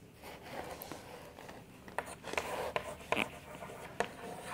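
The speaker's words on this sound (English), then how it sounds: "So now I am going to write answer number 5." A pen scratches out an answer by hand on paper during an English lesson, with soft irregular strokes and several sharper taps up close, no talking.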